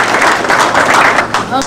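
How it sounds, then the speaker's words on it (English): At a children's magic show, an audience gives a brief, loud burst of clapping, packed and close. "Everybody get him a round of applause for knowing all of this."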